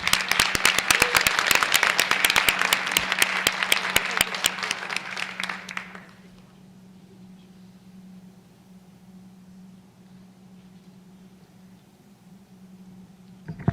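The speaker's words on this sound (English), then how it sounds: "let's give them another round of applause" Audience applause at a school board of education meeting, dense clapping filling the room for about six seconds before cutting off into a quiet room hum.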